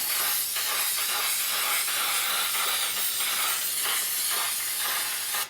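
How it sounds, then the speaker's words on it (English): Spray gesso hisses steadily from an aerosol spray can, a continuous loud, bright spray held for several seconds before cutting off. "you can get some amazing coverage with this spray gesso"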